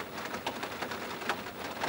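Heavy rain pours steadily as a dense, even hiss, close and constant with faint scattered drops and no voices.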